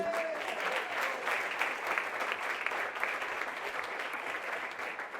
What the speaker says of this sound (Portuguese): Acho que se você acreditou, você tinha que aplaudir a Jesus